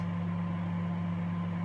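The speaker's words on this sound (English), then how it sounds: "I'm just testing the grill function out. I'm just grilling some toast." A Sharp R664WM 20-litre microwave runs its grill function while toasting bread, giving a steady low electrical hum with a constant drone and no change in level.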